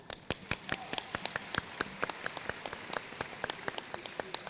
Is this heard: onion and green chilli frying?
no